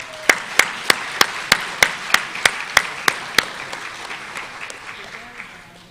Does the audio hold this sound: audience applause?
yes